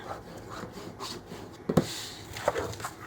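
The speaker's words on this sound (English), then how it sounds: "Let's burnish." Chipboard pieces for a steampunk-style box are burnished by hand, giving soft rubbing and scraping strokes with a couple of sharper taps near the end, heard up close and alone.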